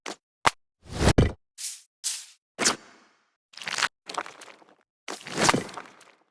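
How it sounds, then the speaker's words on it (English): A series of short, gritty earth-magic whooshing bursts with a chorus effect giving a shimmering, slightly doubled quality, separated by brief silences, some sharp and others longer and swelling. "these little earth whooshes that have some chorus on them just to make them more magic sounding"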